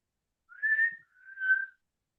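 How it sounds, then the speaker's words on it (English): A person whistles two sustained, steady notes inside an old attic loft, each lasting under a second with a brief gap between them, clear and close against near silence. "Do you want to try and whistle again?"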